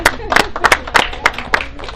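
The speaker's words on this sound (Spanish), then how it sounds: "aplausos, aplausos acá para toda la familia" Applause breaks out for a whole family: a handful of claps in irregular, uneven bursts, fairly close, with voices talking over and between them.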